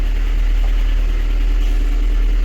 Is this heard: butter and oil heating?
no